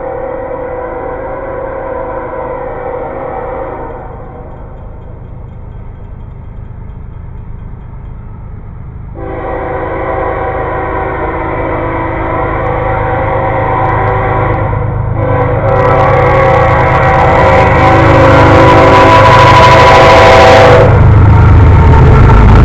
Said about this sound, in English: It's a coal train, loaded coal train.